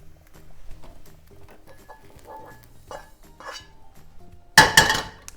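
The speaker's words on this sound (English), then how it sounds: "my microphone fell off" A clip-on microphone falls off in a home kitchen while quesadillas with dandelion leaves are being made: quiet scattered clinks and rustles give way to a sudden loud clattering thump near the end.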